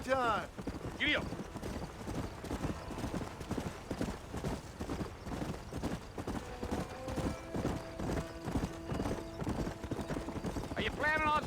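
Rhythmic hoofbeats of a horse galloping in the Western video game Red Dead Redemption run steadily throughout, with a couple of whinnies near the start and end and characters talking over the hooves.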